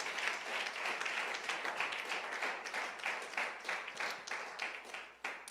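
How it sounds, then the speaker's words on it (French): Sustained applause from a church congregation, dense overlapping clapping with some individual claps standing out, steady and fairly loud throughout. "Acclamons le Seigneur."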